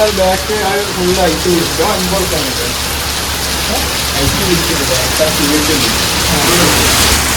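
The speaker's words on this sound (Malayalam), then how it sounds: "നല്ല മഴ കേട്ടോ നല്ല മഴ അടിപൊളി" Heavy rain pours down in a dense, continuous hiss, drumming loudly on surfaces, while people talk faintly beneath it.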